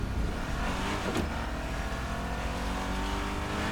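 A vehicle drives at speed in the Fortnite video game, giving a continuous loud engine drone with a steady rumbling tone from start to end. No speech is heard.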